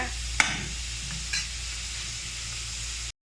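Carrot rice being turned over in a pan, with a soft scrape near the start and another around the middle above a low steady sizzle, no voices.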